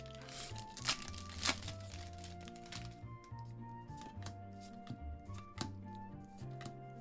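One Piece OP13 trading card booster packs being torn open: close crinkly foil rustling and crunchy tearing in bursts, with a few louder rips over a low tonal background hum.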